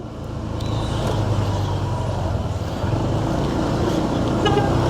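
A motorcycle rides along a road, picked up by a DJI Mic Mini on the rider's helmet: a continuous engine drone mixed with rushing wind and road noise, steady and fairly loud throughout.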